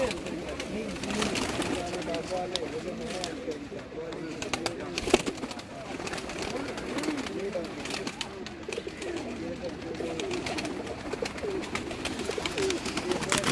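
Paired pigeons belonging to a noted ustad coo steadily from a rooftop loft, soft repeated throaty calls layered throughout, with people's voices mixed in underneath.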